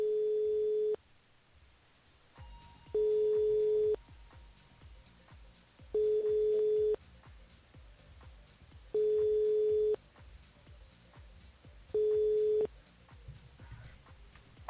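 Repeated telephone ring tones on a radio station's call-in line, about five evenly spaced pulses roughly three seconds apart, clear and steady against a faint low background.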